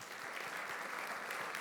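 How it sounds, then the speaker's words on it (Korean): Steady applause from a church congregation during a Sunday worship service, a continuous dense patter of many hands at moderate level with no talk over it. "박수 한번 치겠습니다."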